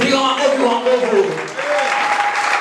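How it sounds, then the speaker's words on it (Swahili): Church congregation clapping loudly and continuously, mixed with shouting and raised voices throughout. "Acclamons très fort."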